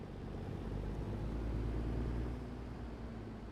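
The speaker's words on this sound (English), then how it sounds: "I just want to let you guys hear the truck for a minute." A truck engine runs with a low, steady, muffled rumble, faint and constant throughout with no voices.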